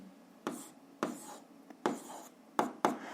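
A pen writing down a physics calculation on paper, quiet and close, with several separate scratchy strokes and short pauses between them.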